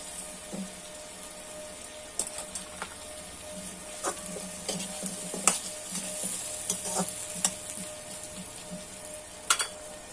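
Potatoes and onions frying together in a pan for a cabbage ghonto, with steady low sizzling and scattered scraping taps of a spatula stirring, fairly quiet and close, no talking.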